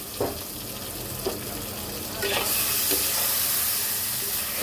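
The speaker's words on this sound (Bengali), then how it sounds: "এইবার মাছগুলো দেওয়ার পর একটু মিক্স করে দেব আর 2-1 মিনিট একটু হালকা ভাজা ভাজা করব।" Tengra fish being fried and stirred in a spiced onion masala, giving a steady sizzle with a few scraping stirs near the start that grows louder and more hissing partway through.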